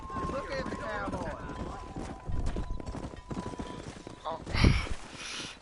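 Horse hooves clip-clop at a run while cattle are herded down a road in the Red Dead Redemption video game, fairly faint beneath someone talking, with a louder thump near the end.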